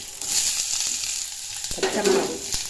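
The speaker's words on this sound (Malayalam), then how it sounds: "എണ്ണ ഒഴിച്ചു, കടുകിട്ടു, പൊട്ടട്ടെ. സവാള ഇടാം," Mustard seeds and sliced onion frying in hot oil, a steady bright sizzle with a louder, fuller burst of frying partway through; no talking.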